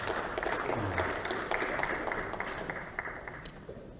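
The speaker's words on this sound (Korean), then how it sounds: "우리 최고위원님께도 박수 한번 좀 보내주시기 바랍니다" Applause from members gathered at an emergency Liberty Korea Party caucus meeting, a steady wash of clapping filling the room for about four seconds and tapering slightly toward the end.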